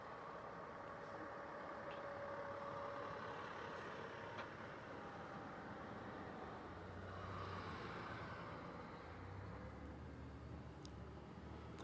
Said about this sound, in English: here you can see the intersection of Huntclub and Greenbank Road with cars and trucks coming from Barrhaven